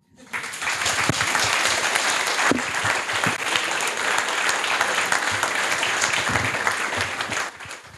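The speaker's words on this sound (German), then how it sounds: "dafür nochmal einen Applaus" Sustained audience applause after a student team presentation at a youth hackathon in Cologne, dense clapping that fills the room steadily for several seconds and then tapers off at the end.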